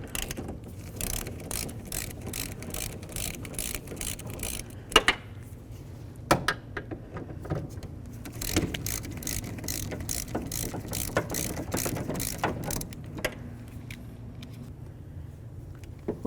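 A hand ratchet clicks in repeated quick bursts while loosening two 10mm bolts on the front window regulator of a 2007-2017 Ford Expedition, close and clear, with a few sharper metallic knocks between runs and no voices.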